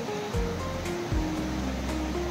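Swollen river in the Konkan countryside during heavy rain, its water rushing in a steady broadband roar with a few low tonal swoops mixed in, no voices.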